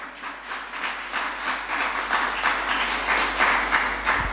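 Church congregation applauding during a service, a dense spread of clapping that holds steady and builds slightly, with some voices mixed in.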